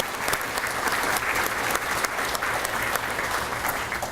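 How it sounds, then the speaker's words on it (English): Guests at a school district retiree reception give a steady round of applause, many hands clapping together evenly for a few seconds at moderate volume. "So let's give those folks a round of applause."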